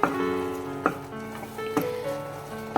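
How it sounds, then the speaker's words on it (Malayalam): A spoon scrapes and knocks in a pan of sizzling carrot halwa with sugar, giving a few distinct clacks over a soft continuous fry, close by and without speech. "ഇതിൽ നന്നായിട്ടൊന്ന് ഇളക്കി കൊടുക്കുക."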